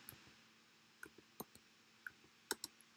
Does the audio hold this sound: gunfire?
no